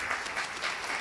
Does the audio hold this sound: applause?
yes